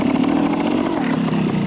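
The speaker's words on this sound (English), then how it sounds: "I've also got a little bit of clutch pop and engine blip." Motorcycle engine blipped with a clutch pop while riding into a nose wheelie, a loud, close, rough buzzing rasp that holds steady across the short burst without pause.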